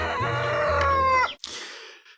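Ducks or geese on a farm in the video game I Am Cat give one drawn-out, honking, crow-like call followed by a short raspy cry, close and loud, with no talking.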